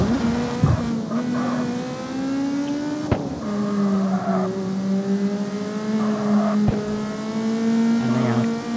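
A car drifting in the mobile street-racing game CarX Street: a steady, sustained engine whine with tire squeal, shifting in pitch as it slides, plus a few sharp thumps, and no talking.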